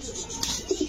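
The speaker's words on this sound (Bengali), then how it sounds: "এত বড় কবুতর? কিং কবুতর না? শো কিং না?" Low cooing from a pair of large king pigeons, a male and female, on a pigeon farm, with soft close coos near the end over faint background noise.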